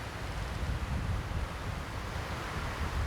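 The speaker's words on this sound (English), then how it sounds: "It is very windy at Seminole." Steady wind gusting across the open Seminole golf course, a continuous low roar with rumbling buffeting against the microphone, constant in level throughout with no voices.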